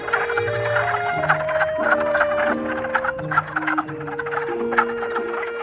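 Wood frogs calling at a spring breeding pool in early spring, a steady chorus of clucking, duck-like croaks overlapping continuously, fairly close and alone with no talk.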